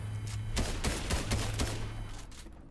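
Shotgun gunfire in Fortnite, a rapid run of about half a dozen loud, close blasts in quick succession, then fading out, with no talking.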